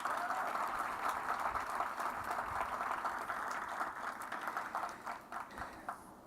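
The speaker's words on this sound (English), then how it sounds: "Please give them a round of applause." Sustained audience applause at an outdoor-style groundbreaking ceremony for a clubhouse, a dense steady patter of many hands clapping that thins and softens slightly near the end.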